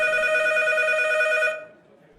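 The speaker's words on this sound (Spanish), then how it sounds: "Al punto el teléfono suena." A telephone rings with a steady, bright electronic tone that lasts about a second and a half, then stops abruptly. No voices accompany it.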